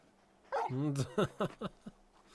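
A large dog in the video game Final Fantasy XVI gives a short run of soft yips and whimpering barks, a rising whine followed by several quick clipped woofs, close and fairly quiet.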